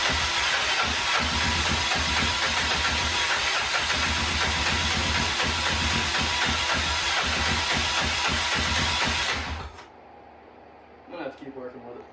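A locked-up Honda Fourtrax 300 ATV that has been revived runs loud and close with a rough, uneven engine note, then cuts out abruptly, leaving near silence broken by a brief small clatter.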